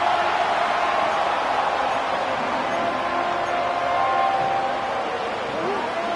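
Stadium crowd noise from a Madden football video game, a dense, steady roar of cheering fans building toward a third down, loud and continuous throughout.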